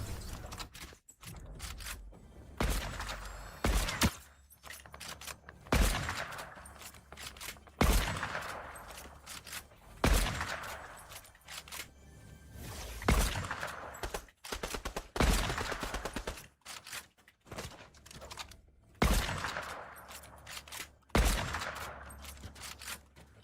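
Repeated bursts of gunfire from a squad-based video game shooter, loud cracks followed by short tails, coming in clustered volleys every couple of seconds over a long stretch with no talking.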